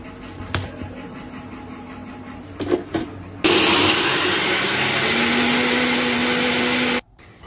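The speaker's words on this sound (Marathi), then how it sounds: "आता मिक्सरच्या भांड्यामध्ये हे ॲड करून त्याच्यामध्ये थोडंसं पाणी ओतायचं आहे आणि याची छान अशी स्मूथ एक कन्सिस्टन्सी करून घ्यायची आहे" A mixer grinder whirs loudly for about three and a half seconds, blending roasted fenugreek mixture with water to a smooth paste, preceded by a few clinks and knocks of the jar and stopping abruptly.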